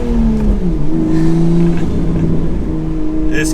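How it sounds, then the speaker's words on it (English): Toyota MK5 Supra on a full aftermarket exhaust revs hard toward redline, a loud, close engine note that climbs in pitch and holds, raw and continuous throughout. "When you hit about redline, it wakes up so much."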